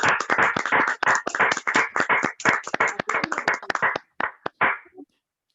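An audience claps after a lecture, a dense burst of hand claps picked up through microphones, close and fairly loud, thinning into a few scattered final claps before falling silent.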